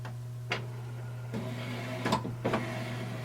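A Canon TS3120 inkjet printer powering on, giving a few short mechanical whirs and clunks over a steady low hum, close and fairly quiet.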